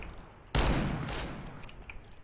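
A single loud burst of revolver-like gunfire from the R8 revolver in the video game CS:GO lands abruptly near the start. A sustained, noisy tail and scattered softer game sounds follow.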